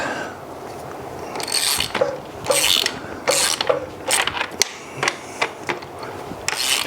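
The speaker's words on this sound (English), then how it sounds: "we're going to use this socket at my open end" A socket wrench ratchets a bolt on a Chinese dirt bike in repeated bursts of quick metallic clicking, close and fairly loud, with short pauses between strokes.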